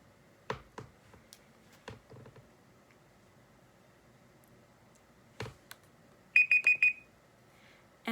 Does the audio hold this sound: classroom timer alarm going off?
yes